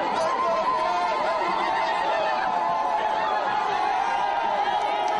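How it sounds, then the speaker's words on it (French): A large, dense crowd fills the streets of Congolo for a governor's procession, a steady roar of chatter and excited voices with occasional cheering, loud and continuous throughout, with speech mixed in. "Congolo est débordé d'une foule qu'on aurait cru sortie d'une fiction de carnaval"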